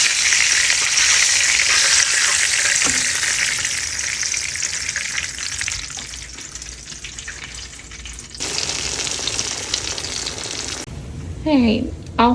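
Chicken fried steaks sizzle and crackle steadily in hot frying oil, a loud dense hiss that drops in level partway through, with a brief voice near the end.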